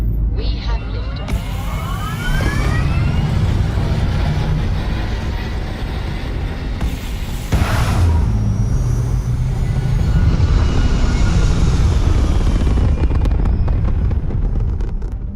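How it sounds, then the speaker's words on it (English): Starfield spaceship liftoff: a loud, sustained engine roar with deep rumble and rising whine, swelling steadily over about fifteen seconds with a brief surge midway, no talk over it. "We have liftoff."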